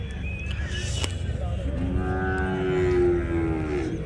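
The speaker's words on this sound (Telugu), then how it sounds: "ప్రజెంట్ అయితే ఇక్కడ అన్ని దూడలు ఉన్నాయి, ఆడదూడలు ఇవి" Punganur female calves mooing in drawn-out calls at a calf market, one long low moo rising and holding near the end, over a steady background rumble.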